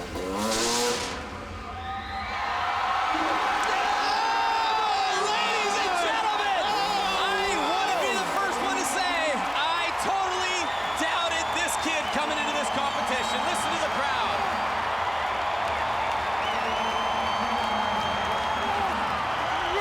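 A large crowd at an X Games Moto X competition roars and cheers continuously, loud and swelling, with shouts and whistles rising over a broad din, while a voice briefly talks near the start.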